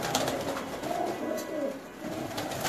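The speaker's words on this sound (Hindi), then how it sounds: "ये झाड़ में है कबूतर" Pigeons perched in a bush at a Mangla Road loft give low, rolling coos that swell and fade in overlapping phrases, steady and close, with no speech over them.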